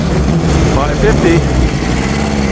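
Vintage Alfa Romeo car engine at the Mille Miglia rumbling loud and close with a steady idle, under outdoor crowd noise and voices.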